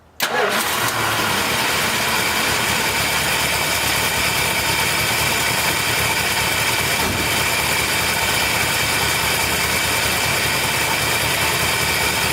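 A 1968 Dodge 383 big block V8 idles steadily just after a cold start, still on old spark plugs, with a loud, continuous rumble that kicks in abruptly and holds even for the whole stretch.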